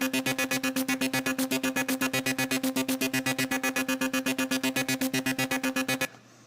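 A synth in Ableton plays a basic repeating pattern with randomised settings, a fast, even stream of short plucked notes for about six seconds before it cuts off, with no talking.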